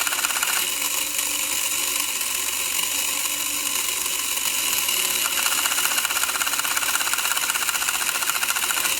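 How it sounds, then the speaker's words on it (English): An Electron Robot toy's gear and cam mechanism runs with a steady, continuous mechanical whir and ratcheting clatter, with a cam lifting a gear and a flapper switch being struck, close and even for the whole stretch. "When it's up here making that noise, you can actually see it hitting a flapper."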